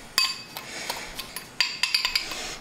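A spoon clinks and scrapes repeatedly against a bowl while a spice rub paste for ribs is stirred, with sharp metallic taps in bursts, close and fairly clear.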